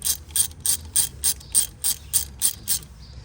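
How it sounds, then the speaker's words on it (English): On a 2008 Mazda 3, a ratchet turns out a 10 mm bolt with about ten crisp, evenly spaced clicks at close range, then stops. "All right, I finally found the 10 millimeter, so unscrew that."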